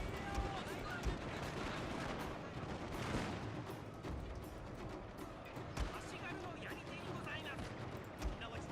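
Sustained rolling volleys of musket and gunfire from a Shogun 2 Total War battle, dense crackling shots and thuds continuing throughout with game clamor and occasional voices underneath.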